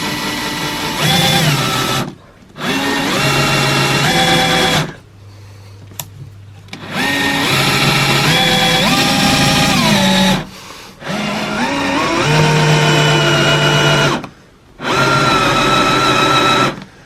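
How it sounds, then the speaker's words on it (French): Power drill boring a hole in wood with an 8 mm bit, loud and close, running in four long bursts with brief quiet pauses between them and no voices. "Un trou d'environ 5 mm de fond et on va prendre un foret de 8 mm"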